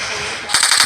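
Rapid automatic gunfire in a desert-map warfare video game, loud bursts of closely spaced shots kicking in after a hiss of background noise, sounding close to the player.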